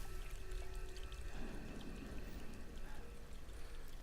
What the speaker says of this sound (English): It's that water faucet.